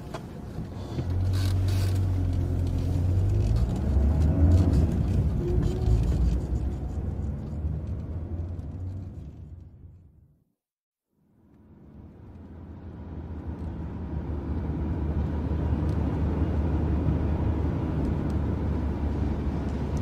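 A taxi car drives along with a low engine rumble and road noise that fades almost to silence midway, then builds back up to a steady drone.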